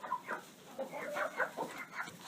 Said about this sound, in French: c'est un coq vraiment jeune